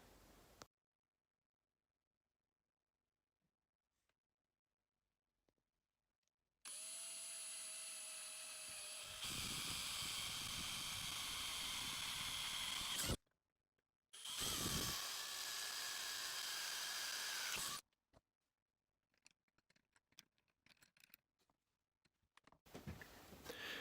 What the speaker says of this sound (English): after drilling those holes out